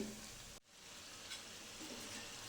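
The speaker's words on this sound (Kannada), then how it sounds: "ಎರಡೂ ಕಡೆ ಚೆನ್ನಾಗಿ ರೋಸ್ಟ್ ಮಾಡಬೇಕು ನೀವು ಎಣ್ಣೆಯಲ್ಲಿ" Pieces of gobi (cauliflower) frying in a pan of hot oil, making a steady, dense sizzle up close, with a brief dip in the hiss near the start before it resumes evenly.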